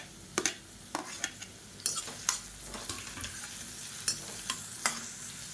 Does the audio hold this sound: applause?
no